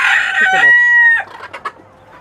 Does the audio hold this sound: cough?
no